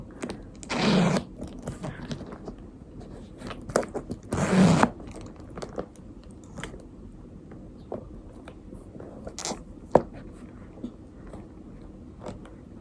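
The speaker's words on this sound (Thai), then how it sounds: "ด้านหลังก็จะมี เป็นซิปแบบนี้ใส่ของอีกอันหนึ่ง" The zipper on the back pocket of a grained-leather Celine Mini Belt Bag is pulled twice in longer rasping strokes, with soft handling rustles and taps around them and no talk.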